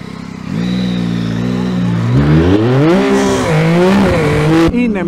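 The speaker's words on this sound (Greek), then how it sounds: "Είναι μηχανάκι ληστείας." A Yamaha MT-09 Y-AMT motorcycle engine, close and loud, revs up through rising and falling pitches and then cuts off abruptly at the end.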